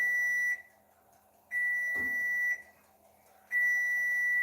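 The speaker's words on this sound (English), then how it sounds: "I'm going to get these tongs here as this timer runs down." A kitchen timer goes off while chickens cook, sounding three loud, long, steady electronic beeps at an even rhythm, each about a second long and separated by pauses of similar length.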